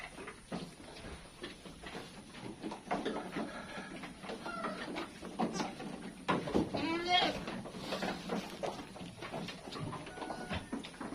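Goats on a small livestock farm, bleating repeatedly at close range, with rustling, movement and some talking in the background.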